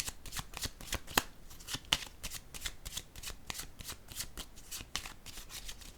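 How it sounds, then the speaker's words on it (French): Cards riffled and handled in a rapid series of crisp, papery flicks and snaps, one deck being shuffled and drawn from, close and moderately loud with no talking. "Je vais piger une carte sur le cercueil."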